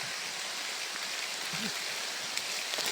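Steady, even hiss of rain falling outdoors, a dense wash of drops that holds level throughout, with a faint low murmur briefly surfacing near the middle.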